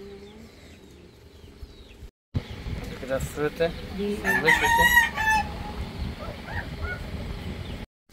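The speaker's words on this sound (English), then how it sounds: "Look at the beautiful duck." Farm fowl on a Philippine fruit and vegetable farm, heard as loud honking and clucking calls that come in a cluster midway, with someone talking over and around them.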